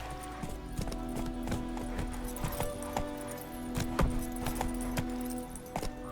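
Roach, the horse in The Witcher 3, gallops with steady, rapid hoofbeats, with jangling tack over a continuous low game ambience and a faint background voice.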